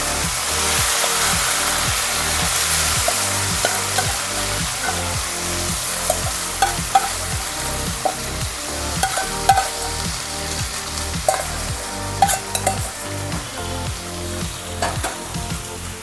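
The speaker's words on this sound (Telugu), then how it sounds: "సో ఇక్కడ బాగా ఆయిల్ బాగా వేడెక్కిందండి. సో ఇక్కడ ఉడికిన చికెన్ని దీనిలో వేసేస్తున్నానండి." Cooked chicken fries in hot cold-pressed mustard oil, a dense, continuous sizzle broken by rhythmic stirring scrapes and clinks, close and steady throughout.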